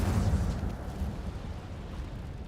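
An Incendio fire spell bursting out in Hogwarts Legacy, inside a cave: a heavy, deep whoosh and rumble that hits hard at first and then fades slowly over a couple of seconds.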